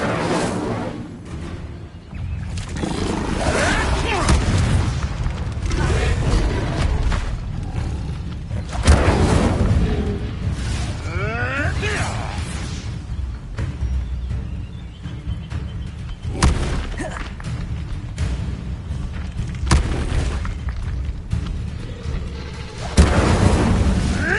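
An Incendio fire spell cast in Hogwarts Legacy, heard as booming, bursting blasts within a dense, continuous wash of game sound and music.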